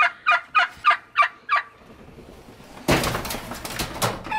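Turkeys gobbling inside a barn: five rapid, evenly spaced gobble bursts close by, followed by a quieter pause and then a stretch of broad rustling, clattering noise.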